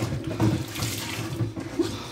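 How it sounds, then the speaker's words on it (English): Water runs from a kitchen tap while hands are washed during cooking, a steady close splashing with small irregular spatters over about two seconds. "Wash my hands here."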